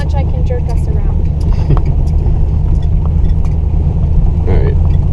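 Chevrolet Camaro engine rumbling steadily during street drifting, a continuous low drone with faint road noise, while people talk inside the car.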